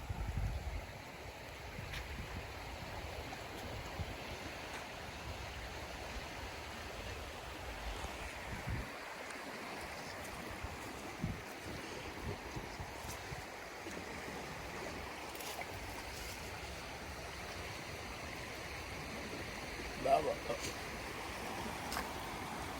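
Floodwater rushes through a flooded village in Getas as a steady, fairly faint broadband roar, with occasional soft voices and small knocks over the flow.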